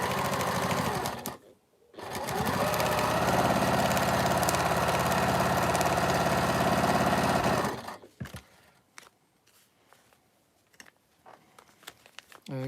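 A sewing machine stitches pieces of a Christmas quilt wall hanging, running in a steady close whir for several seconds after a brief start, then stopping into quieter clicks and handling noises.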